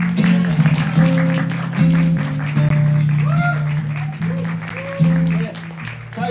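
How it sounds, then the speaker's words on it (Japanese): Party audience applauding a DJ partner at a gathering, a steady wash of clapping running under a loud voice and tonal music-like sounds throughout. "僕の相方ヤブズドットコムに大きな拍手をください"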